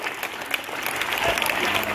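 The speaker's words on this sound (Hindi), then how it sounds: "ताली बजाइए जोरदार।" An audience claps steadily through a short burst of applause at a school gathering honouring the month's best students, with dense overlapping hand claps close by and no talk.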